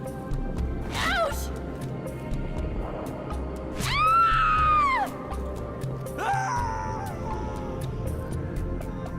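Generic male Marine scream in Halo 3, voiced for Miranda Keyes as she is pushed off the map edge and falls: a short strained cry, then a loud, long falling wail, then a brief final yelp, over steady game ambience.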